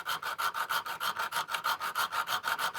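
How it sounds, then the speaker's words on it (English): A hand file strokes back and forth across the end of a bandsaw blade to form a small taper, making a fast, even rasping rhythm of about six strokes per second. The strokes are close and moderately quiet, with no voices. "I file it a small taper"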